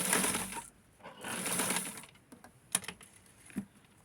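Sewing machine stitching the folded edge of a shirt collar, running in two short bursts of rapid whirring, then a few scattered light clicks and taps.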